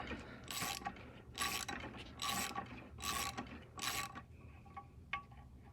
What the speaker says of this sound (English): I'm going to install this deep socket over and just rotate that out counterclockwise.